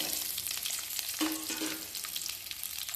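Small shallots hitting hot oil in a pan for a Tamil tamarind-style kuzhambu, giving a steady close sizzle with a brief stir partway through, no voices.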